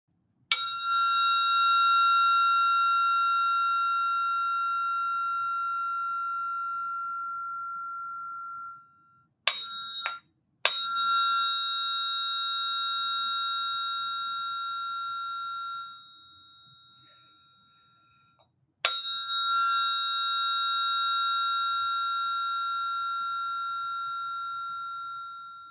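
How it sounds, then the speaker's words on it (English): Sound healing tuning forks are struck three times, each giving a clean, sweet bell-like tone that rings out steadily and fades slowly over many seconds in near silence. "this is more a fork of being. It's a very sweet tone. It's very bell-like."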